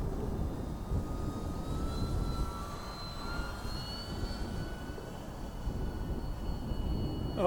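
A HobbyKing J3 Cub RC model airplane flies with a steady engine whine that holds for the whole stretch, its drone slowly shifting pitch as it passes at moderate distance over constant broadband noise.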